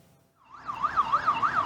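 A police car siren wails in rising and falling sweeps as it chases a drunk driver's truck down a highway at night, starting abruptly and growing louder over a brief moment.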